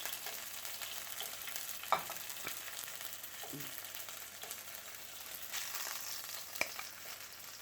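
Tanigue fish sizzles steadily in hot oil over medium heat, a quiet even crackle with a few sharp pops and clinks along the way.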